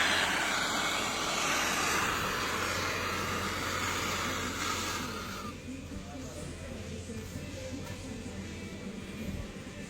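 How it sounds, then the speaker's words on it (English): A torch flame heats a copper pipe coupling, a steady loud roaring hiss that softens partway through, with a voice talking over it. "Move the fire on the coupling."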